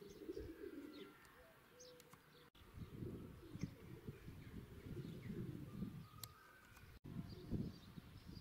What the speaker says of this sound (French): Les oiseaux nidifient dans les portes.